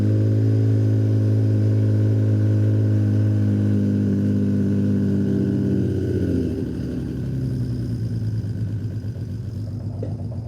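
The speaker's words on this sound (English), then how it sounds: "So now I'm gonna see if I can actually run the bike, get it to idle, see how it behaves if I leave it on for a couple minutes." A rebuilt motorcycle engine idles loudly and steadily up close, a low rumbling hum with strong harmonics that dips and settles slightly lower partway through, running alone without voices.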